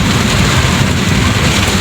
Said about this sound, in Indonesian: Hujan makin deras guys.